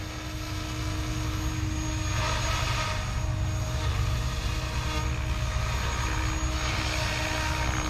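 A remote-control helicopter that can fly itself hovers close by, its rotor and motor giving a loud, steady whine and whir that holds even for the whole stretch.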